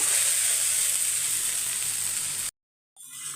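Okra roasting on low heat in a pan gives a steady, close hissing sizzle that stops abruptly for a moment, then resumes more faintly.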